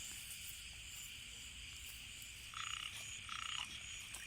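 Frogs croak outdoors at night after heavy rain, two short bursts of croaking rising above a steady din of insects and rain-soaked ambience.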